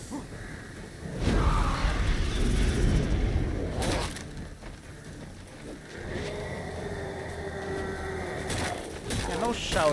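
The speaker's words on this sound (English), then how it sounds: "Bro, birds." Birds cooing in The Witcher 3 video game, soft pigeon-like coos and calls mixed with game sounds and whooshes, heard alongside combat noise and someone talking.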